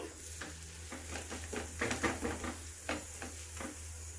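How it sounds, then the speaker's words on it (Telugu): An aloo paratha fries in a pan with a soft sizzle, punctuated by several light scraping and tapping strokes from a utensil, close and fairly quiet. "ఇప్పుడు మనం ఇంకొక సైడ్ కూడా వేసుకొని వేయించుకుందామండి"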